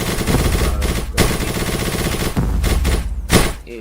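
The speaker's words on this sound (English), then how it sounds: "That is minigun" Rapid minigun fire from a Street Fighter match, a dense sustained rattling burst that runs almost continuously, with brief breaks near the middle and a louder surge toward the end.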